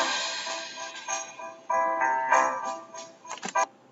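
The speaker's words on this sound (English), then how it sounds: "I'm going to pick Deck the Halls." Deck the Halls plays as a bright, chiming music track in a Powtoon animation, heard quietly, with a jingling melody of short notes and no talking.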